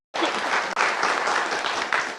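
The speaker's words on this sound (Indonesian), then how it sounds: "Tepuk tangan buat BHS boleh." An audience at a televised debate show bursts into applause, a dense sustained clapping that starts abruptly and continues steadily with a brief dip partway through.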